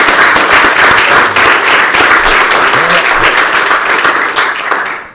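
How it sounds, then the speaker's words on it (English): An audience at a chiropractic talk event applauds. Dense, loud clapping fills the room and stays steady for several seconds, then fades quickly at the end. "give him a loud round of applause and some love"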